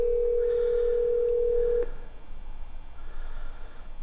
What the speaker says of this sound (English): So let's see if I can make a call. It looks like it's dialing internally.